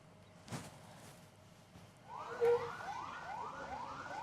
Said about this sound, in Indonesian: suara sirine ambulans terus terdengar dari SMP Negeri 3 Kota Banjar, Jawa Barat